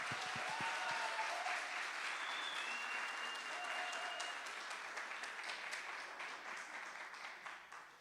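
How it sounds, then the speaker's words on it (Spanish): A church congregation applauds in welcome, sustained crowd clapping that starts full and slowly thins and fades, with a few sharp near claps at the opening and faint voices mixed in. "Y la iglesia les da un aplauso de bienvenida"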